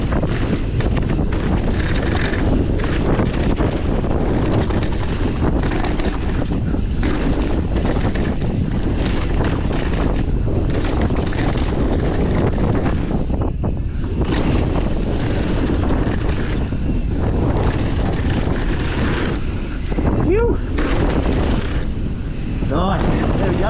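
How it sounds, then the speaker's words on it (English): Strong wind buffets the microphone high on a windy hilltop, a continuous loud roar and rumble with gusts that barely ease throughout, swamping everything else. "It's still actually annoyingly windy up here"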